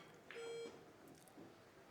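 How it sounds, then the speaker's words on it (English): A single short electronic beep from a shot clock at a professional pool match in Las Vegas, sounding once, brief and fairly clear over quiet room tone. "heard one beep of the shot clock there"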